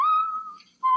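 A person whistles a short tune: a long sustained clear note that slowly drifts lower and fades, then a brief pause before a fresh note starts.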